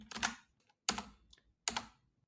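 Three short clattering bursts of typing on a computer keyboard come at a steady pace, close and quiet, with brief silences between them.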